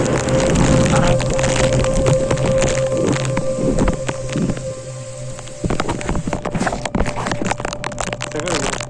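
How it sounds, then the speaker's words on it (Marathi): Monsoon rain in thick fog on a forest fort trek near Nashik patters steadily and densely, mixed with knocks and clatter and a person's voice talking over it. "फुल धुकं पाऊस"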